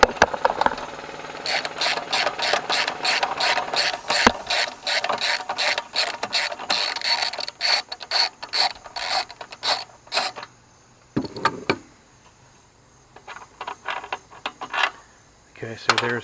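A ratchet wrench clicks rapidly in repeated bursts while a 13 mm bolt is worked off a Briggs and Stratton lawn mower engine, heard close, with brief pauses and a faint clunk between strokes.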